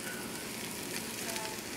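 Potato casserole with cheese, bacon, basil and garlic heats in a pan over a moderate flame, giving a soft, steady sizzle and crackle that stays even and fairly quiet throughout.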